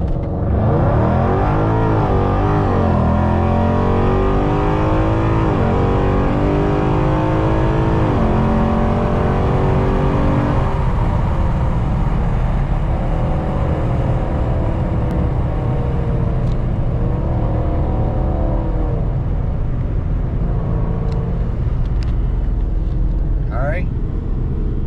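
Modified, cammed 5.7 Hemi R/T car making a 0-60 run: loud, throaty engine revving up through rising sweeps with gear-change dips, a sustained close roar lasting the whole stretch, with a voice talking over it.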